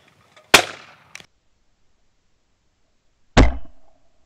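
Two sharp, loud shotgun blasts fired at clay targets outdoors, each a sudden crack with a short decaying tail, separated by about three seconds of silence, with a faint click between.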